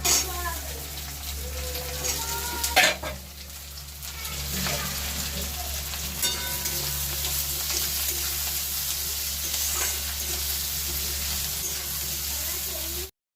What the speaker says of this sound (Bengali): পেঁয়াজের সাথে মাছটাও দিয়ে আমি ভেজে নেব।